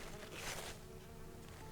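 Bees buzz faintly and steadily nearby, a soft continuous hum that swells briefly before settling.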